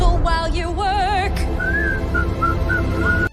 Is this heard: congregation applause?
no